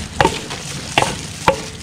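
A utensil stirs an egg mixture in a pan, making three sharp, close scrapes spaced about a second apart over a faint background hiss.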